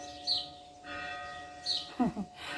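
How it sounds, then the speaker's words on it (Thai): A bell rings out to mark the hour in Greece, a sustained tolling tone heard at a moderate distance with faint bird chirps and brief noises over it. "กับเสียงระฆังนะคะ เสียงระฆังบอกเวลาของประเทศกรีซนะ"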